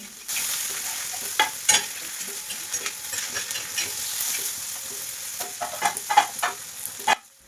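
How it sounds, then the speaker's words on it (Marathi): Onion, green chili and curry leaves fry in a hot pan with a steady crackling sizzle, broken by several sharp spatula scrapes and clinks toward the end, close and with no talking. "त्याच्यामध्ये टाकला आहे कांदा त्यानंतर हिरवी मिरची आणि कढीपत्ता हे सगळंच टाकून घेतलं आणि छान असं भाजून घेतलं"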